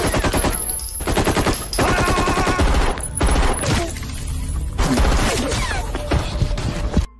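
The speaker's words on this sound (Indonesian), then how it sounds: "Namun saat dia melihat anggota bernama Rohi di tempat terbuka, dia pun memaksa untuk menembak." Gunfire in a movie scene of a terrorist attack on a place of worship: loud, dense machine-gun bursts rattle in rapid volleys separated by brief pauses, with sharp cracks and clatter throughout.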